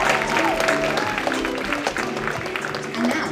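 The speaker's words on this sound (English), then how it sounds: "one last final round of applause for all of our judges who have come in from the USA" Audience applause at a junior pageant competition in the UK, a steady wash of clapping filling the room for several seconds with background murmur.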